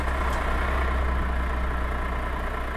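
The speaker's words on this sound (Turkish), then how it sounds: "çalıştıralım aracımıza" A truck engine in Universal Truck Simulator runs at a steady low idle, a heavy continuous rumble with a faint higher whine above it, constant in level and with no talk.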